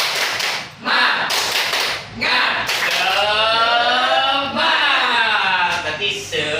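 A group of women claps out a rhythmic 'tepuk semangat' cheer in a training session, sharp claps in bursts with voices chanting between them.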